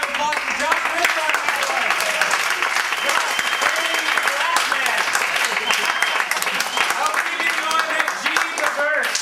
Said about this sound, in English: Now we have a special round of applause for Josh Wynter.